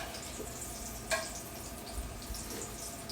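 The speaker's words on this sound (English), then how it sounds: "I took that egg and I put that into the oil, and I'm deep frying it" Egg deep frying in oil gives off a soft, fairly faint sizzle with a few small pops and crackles over a brief stretch, with no speech.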